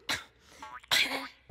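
A cartoon character sneezes in bursts: a sharp, loud breathy burst, a short pause, then a second longer sneeze with a rising build-up, ending in a brief low voiced sound.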